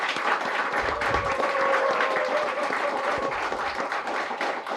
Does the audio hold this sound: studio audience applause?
yes